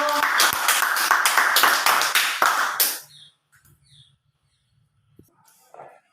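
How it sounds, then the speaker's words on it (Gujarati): Young children at an Anganwadi session clap for Aartiben, a lively burst of rhythmic clapping for about three seconds that stops abruptly, leaving near silence with a few faint small noises. "તો ચાલો આરતીબેન માટે એક તાળી પાડી દો બધા બાળકો"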